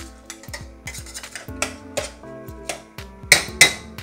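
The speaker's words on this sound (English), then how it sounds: "You basically want to keep stirring so that the rice gets coated and sort of toasted in that oil" Pre-soaked long grain rice stirred through hot oil in a pot, with repeated scraping clinks and knocks of a utensil against the pot in an uneven rhythm, close and fairly quiet.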